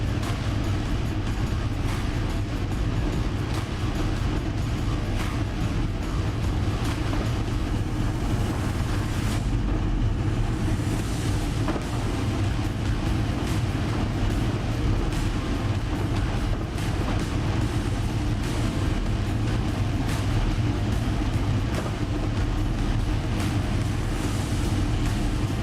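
NASCAR Cup stock car engines run together in the racing game iRacing, making a constant, dense roar that stays loud and unbroken with no pause throughout.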